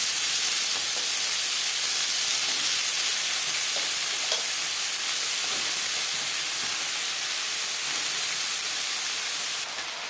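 Bottle gourd pieces dropped into mustard oil in a kadai fry with a loud, dense, steady hiss and crackle throughout, close and alone with no voices.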